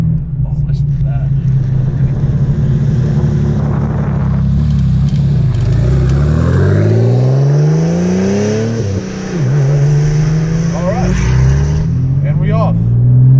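A 600 hp Porsche 964 Turbo engine revs and accelerates, pitch climbing through gears, loud and close, with people talking over the roar.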